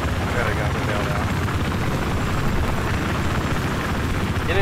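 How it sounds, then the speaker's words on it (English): A transport helicopter in the video game Battlefield 4 drones steadily and loudly with a dense rotor and engine roar throughout, with faint game sounds layered over it. "you'd think having a transport chopper mobile spawn would be super useful"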